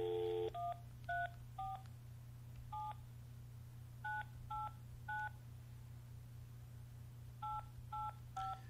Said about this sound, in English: I'm going to make another phone call here and get on another program